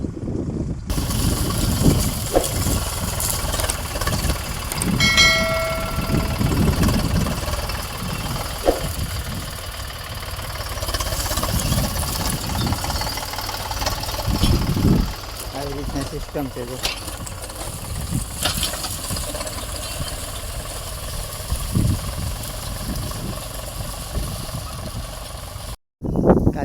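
A tractor engine chugs and rumbles steadily throughout, close by on a farm field, with someone talking intermittently over the noise.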